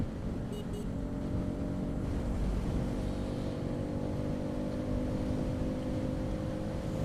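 A motorcycle speeds along a highway, its engine a steady, close drone under continuous rushing wind noise, loud and unbroken throughout with no voices.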